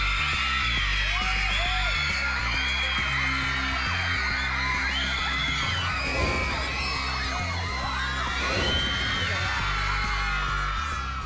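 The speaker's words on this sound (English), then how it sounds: "he attracted a huge crowd, mostly teen girls, who just scream at him." A huge crowd, mostly teenage girls, screams continuously at a celebrity at a movie event, a dense, loud wall of shrieks and whoops with occasional bangs, sustained for the whole stretch.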